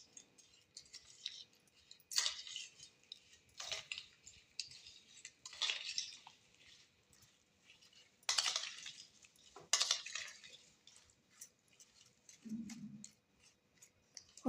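Ingredients for Ugadi pachadi mixed together in a bowl, with a string of light scraping and clinking strokes arriving in separate bursts, fairly faint and without speech.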